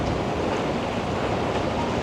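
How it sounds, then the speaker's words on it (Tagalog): Steady ocean surf rolling near an island in the Maldives, a continuous wash of breaking water with wind noise, loud and close, no voices. "Mas okay yung alon ngayon na hindi siya ganun kalakas or kataas."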